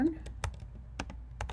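Keys clacking on a computer keyboard while a word is entered in a Photoshop text layer: several sharp, separate taps at an uneven pace, close to the microphone, with no talk.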